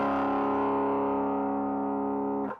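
A bass guitar played through a Suncoast Nanolab preamp with the drive set to 5 rings out as one sustained, gritty, distorted note that holds steady and loud for over two seconds before being cut off abruptly.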